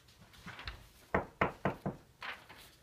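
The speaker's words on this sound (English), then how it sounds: "Whence is that knocking?" Knocking on a door, a slow series of four or five hollow thumps close by with short gaps between them, and quieter knocks just before and after.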